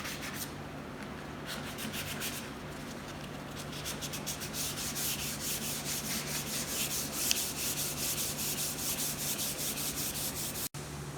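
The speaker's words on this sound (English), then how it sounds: "now we're going to sand the rest of the nightstand with 180 just to scuff off the top" A wooden nightstand being scuffed with 180-grit sandpaper, a steady raspy rubbing with rapid back-and-forth strokes, close and continuous for the whole stretch, no voices.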